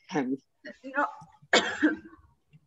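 A couple of harsh coughs, close and loud, separated by brief pauses, with a voice talking around them.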